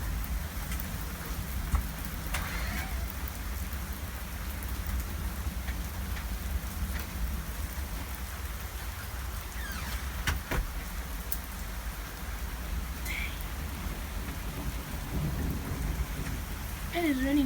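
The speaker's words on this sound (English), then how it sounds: "It is raining hard right now." Heavy rain pours steadily during a hailstorm, a dense constant roar with occasional louder drops and faint rumbles, and brief talk underneath.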